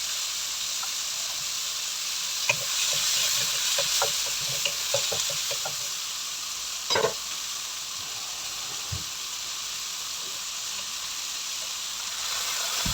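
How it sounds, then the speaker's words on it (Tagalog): String beans (sitaw) being sautéed in a pan, a constant sizzling hiss with scattered utensil scrapes and taps, close by with no talking. "Isa-gisahin lang po natin ito ng mabuti"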